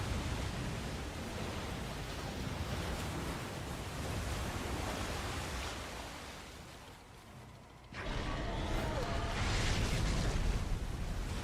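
Water surges and waves wash steadily in SOMA's deep-sea setting, a dense broadband roar that dips briefly then swells again, with no talk.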